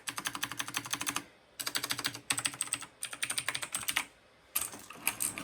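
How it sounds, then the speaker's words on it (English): A computer keyboard being pressed in rapid bursts of clicky keystrokes on a key tester, four dense runs of typing separated by short pauses, close and crisp. "So if I go ahead and press this plus button, yeah, the switch is still working."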